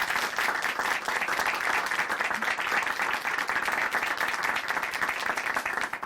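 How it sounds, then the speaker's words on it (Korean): A church audience at a televised Christian testimony program gives sustained, dense applause, steady and full without a break, with no voices standing out. "다시 한번 박수 보내드릴게요."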